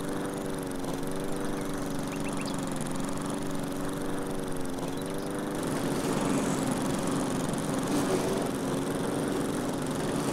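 Riding mower engine in the video game Lumberjack's Dynasty, a steady droning hum with a layered harmonic whine that runs continuously and grows rougher and louder partway through, with no talk over it.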